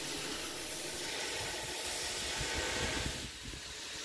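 Epoxy being ground off a knife made from copper and bandsaw blade, a steady loud grinder hiss and rasp running continuously before dropping off near the end.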